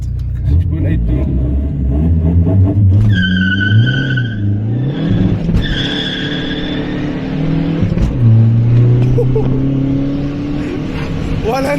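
VW Polo 1.9 TDI diesel hatchback accelerating hard from 0 to 100 km/h, its engine note rising steadily through gear changes with brief dips between gears, loud and continuous while people talk over it.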